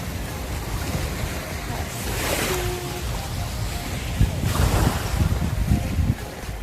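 Waves washing ashore at Paleros beach in Greece, a steady rushing surf with swells of louder breaking water, heavy wind buffeting the microphone throughout.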